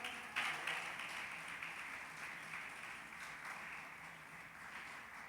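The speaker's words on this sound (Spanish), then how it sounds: "Puedes dar un aplauso al Señor." Faint, steady applause from a church congregation, continuous clapping heard from a distance for several seconds.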